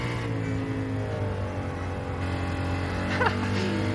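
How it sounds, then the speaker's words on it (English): Steady car engine drone from a racing video game, a low sustained hum with slight rising revs and a brief higher chirp near the end, fairly quiet and continuous with no talk. "Put some random car noises on."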